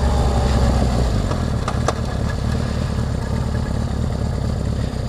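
Honda CB750 motorcycle with no air box runs, a steady, loud mid-pitched engine drone at a constant pace throughout, heard close.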